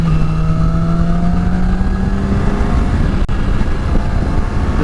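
A Yamaha R6 sport motorcycle on Dunlop Q3 Plus tyres ridden on an open road, its high-pitched engine note rising and then easing off as it shifts, loud and close with constant wind roar.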